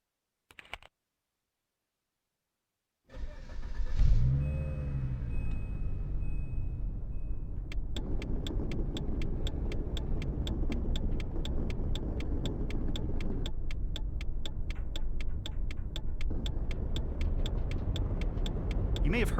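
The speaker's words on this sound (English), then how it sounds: "Start your vehicle and take a right out of this parking lot." A car in a driving video game starts up and pulls away, a low steady engine rumble rising after a short silence, with a rapid regular clicking ticking over it throughout.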